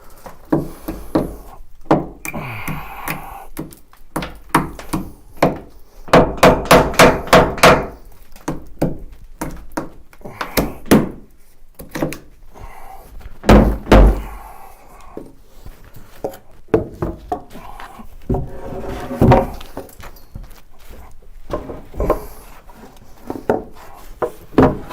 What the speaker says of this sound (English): I'm trying to lift this, and the end of the hammer's crunching this completely, and crunching the beam underneath it.